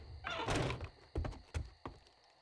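Solid thunks and knocks as a character bashes into an object in a video game, a scuffling heavy impact followed by three separate dull hits, fairly close and with no talking.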